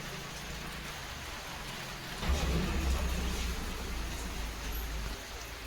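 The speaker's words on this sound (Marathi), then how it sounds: "येतोय पाऊस" Steady rain falls on outdoor surfaces as a dense, even hiss that grows heavier and louder partway through, then eases slightly near the end.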